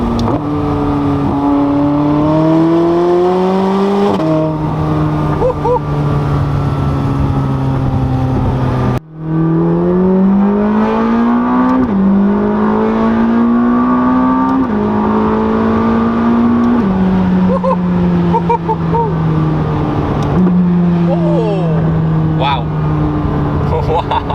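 A 2020 McLaren 600LT Spider's high-revving engine roars through repeated acceleration runs and gear shifts, loud and sustained, with crackling pops and bangs over the exhaust note.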